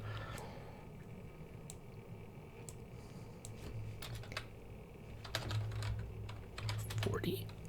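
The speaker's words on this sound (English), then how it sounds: "It's a mechanical keyboard. I can't help it, Cam." Fingers type on a mechanical keyboard, giving close, irregular runs of clicky keystrokes that grow busier toward the end, with a voice heard now and then.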